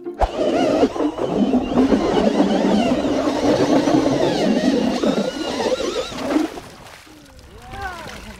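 A four-stroke gasoline ice auger bores through frozen lake ice while ice fishing in Québec, its engine a loud, steady, close drone for about six seconds before it cuts back and fades.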